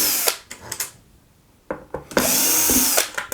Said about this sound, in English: So you need to get a screwdriver with a T9 bit in it, and then you can remove the green screws.